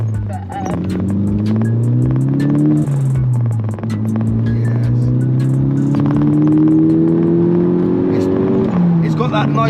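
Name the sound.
Stage 1 tuned Mk6 Golf GTI engine accelerating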